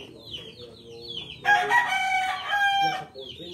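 Chickens at a poultry farm in San Antonio, Nueva Ecija: a rooster crows loudly for about a second and a half over steady nearby clucking and chirping from the flock.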